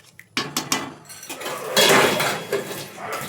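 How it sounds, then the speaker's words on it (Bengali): A metal lid set onto a pan of simmering prawn malai curry with milk, giving a close run of clanks, clinks and scrapes with no talking. "এবারে একটু ঢাকা দিয়ে দিলাম।"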